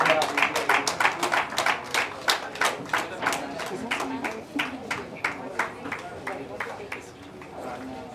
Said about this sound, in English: A big round of applause to ma'am.